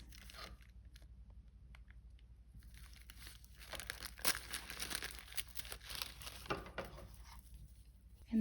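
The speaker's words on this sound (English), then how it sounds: "So you can just gently pull the paper out of your seam allowance." Paper is pulled and torn out of a sewn seam allowance on beaded fabric, giving close, quiet crinkling and ripping that grows busier toward the end.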